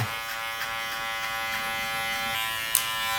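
Electric hair clippers with the guard lever open run at a steady close buzz while fading thick hair, a continuous drone with faint flicking strokes and a brief sharp click near the end.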